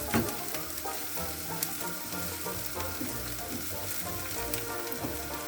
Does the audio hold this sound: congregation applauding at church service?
no